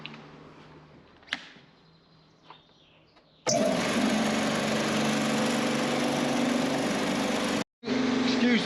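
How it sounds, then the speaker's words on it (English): Air compressor for spraying Raptor bed liner on van trim, starting abruptly after a few faint clicks and knocks, then running as a loud, steady, close roar with one brief cutout. "Excuse the compressor noise."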